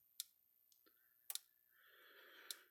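A Gallagher M400 electric fence energizer being tested during repair gives sharp, isolated clicks spaced irregularly, with faint tonal hum between them, quiet and close.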